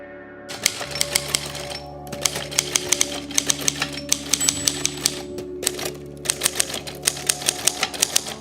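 Rapid mechanical typewriter keystrokes clatter in quick bursts, with brief pauses between runs of sharp clicks and a steady low hum underneath.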